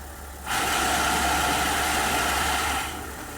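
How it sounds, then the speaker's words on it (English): A GM 10L80 / Ford 10R80 automatic transmission vehicle idling in drive at about 700 RPM, a steady droning engine hum with torque converter pendulum rattle, starting abruptly and easing slightly near the end, no talking. "Listen to those pendulums act up in the torque converter."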